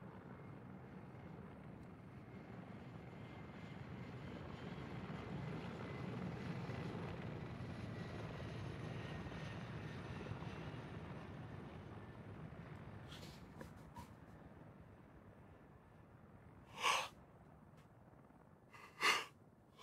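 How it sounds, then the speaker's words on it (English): A friendly helicopter in Arma 3 rumbles in with a broad rotor and engine drone that swells and then fades, followed by a couple of short sharp sounds near the end. "Friendly helo inbound."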